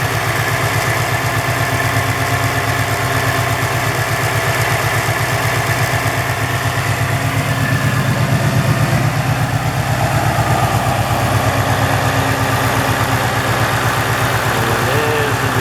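A 2015 Ford Mustang GT with Stainless Works headers and exhaust idles nearby, a steady low rumbling pulse that holds evenly throughout without revving or speech.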